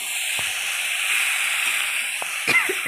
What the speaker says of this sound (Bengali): এবার এই মশলাটাকে সবজিগুলোর সাথে কষাতে হবে।